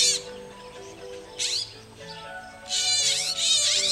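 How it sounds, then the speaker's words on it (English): A bird caught and held by a monkey gives loud, harsh screeching bursts, one near the start, one mid-clip and a longer stretch toward the end, over steady tonal background sound. "The bird is screaming."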